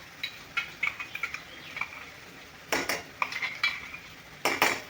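A spatula stirs masala roasting in a pan for village-style chicken, making repeated close scrapes and metallic clinks in an uneven rhythm over a quiet background sizzle, with no one speaking.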